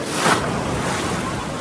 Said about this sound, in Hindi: काफ़ी तेज़ लहरें आ रही है